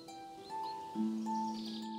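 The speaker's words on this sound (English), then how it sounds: "there's like a symphony of birdsong going on right now" Faint birdsong drifts through quiet Scottish woodland: a few clear, sustained whistled tones and soft chirps, fairly distant and calm.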